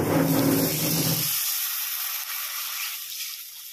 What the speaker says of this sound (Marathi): आता पाणी वतलंय मी